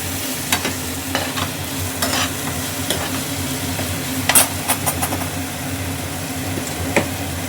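Potatoes fry in a little oil, the sizzle held at a steady, close hiss while a spoon stirs and scrapes the pan in scattered knocks and clinks, with no speech.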